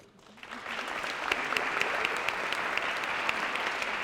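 An education awards ceremony audience applauds teacher of the year finalists, dense steady clapping that swells within half a second and holds evenly throughout.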